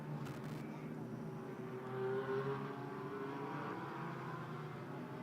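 GT4 race cars circle Circuit of the Americas, their engines a distant, steady drone with one rising pass, faint and continuous.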